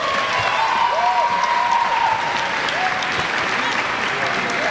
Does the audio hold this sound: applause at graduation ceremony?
yes